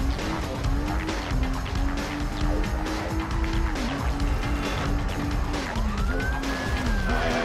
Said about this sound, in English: Whoop whoop, that's the sound of the police.